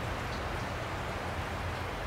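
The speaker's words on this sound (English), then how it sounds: "I'm in a metal building and it decided to start raining on me." Steady rain drumming on a metal building, a dense continuous hiss with a low rumble, constant and fairly loud throughout with no talking.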